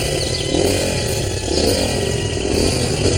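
A lawnmower engine drones steadily and close by, a rough, buzzing motor hum with no pauses and no voices.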